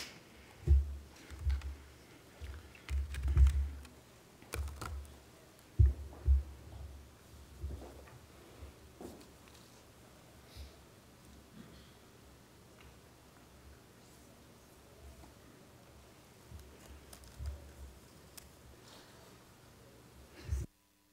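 Faint, scattered clicks of someone typing on a computer keyboard in a quiet committee meeting room, coming in irregular bursts against a low background hum.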